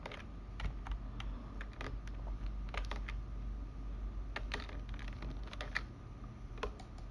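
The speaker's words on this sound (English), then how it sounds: "I'm just going to press Ctrl plus Z" Computer keyboard keys are pressed for a Ctrl plus Z undo, a few faint close clicks and taps over a quiet steady hum.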